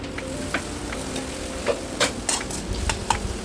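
Potatoes fry with spices in a pan, giving a soft continuous sizzle broken by intermittent scraping clicks of a spoon stirring against the metal, close and fairly quiet.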